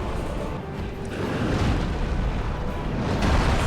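Roaring, broadband fire eruption from the Fire Tempest pyromancy in Dark Souls, a loud sustained rumbling blast that swells and stays dense for several seconds with no pauses.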